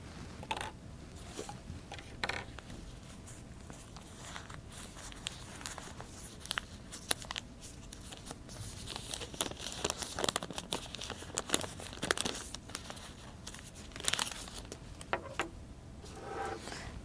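Oil paper wrapping from a fuel injector valve assembly crumples close by, giving soft, irregular crinkles and rustles throughout with no talking.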